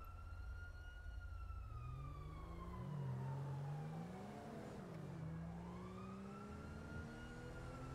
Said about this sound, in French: J'entends des sirènes partout, moi.